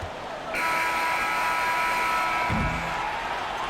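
A steady electronic buzzer drones through an NBA arena at a Miami Heat at Memphis Grizzlies game, sounding for several seconds over a background of crowd noise.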